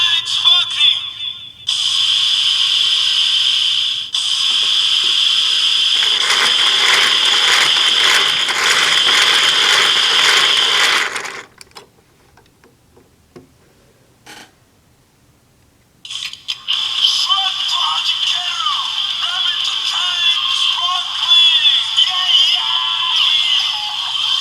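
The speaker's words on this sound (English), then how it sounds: "activate the transformation process again with only sounds from the RabbitTank sparkling" Mechanical ratcheting and gear clicks from the DX RabbitTank Sparkling power-up toy for Kamen Rider Build, played in a transformation sequence: loud dense rattling bursts, a quieter gap near the middle, then more busy clicking toward the end.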